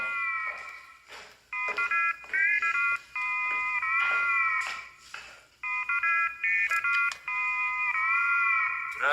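A flip phone rings over and over in shrill electronic trills, with brief gaps between rings, loud and close.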